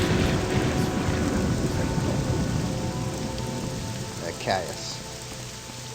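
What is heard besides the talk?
rain falling in the video game Morrowind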